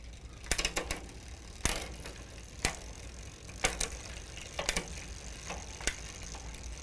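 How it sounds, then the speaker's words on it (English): A bicycle derailleur shifter clicks through gears, several sharp separate ratchet clicks spaced irregularly with quiet mechanical ticking in between and no talking. "So you just heard the last click on the shifter."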